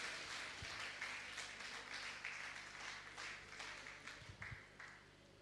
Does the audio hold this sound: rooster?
no